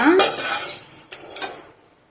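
Rice is stirred and mixed with a lemon tempering for lemon pulihora, giving a few close scraping, clinking strokes with a faint sizzle that fade out over about two seconds.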